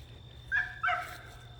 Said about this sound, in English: That's Louie barking in the background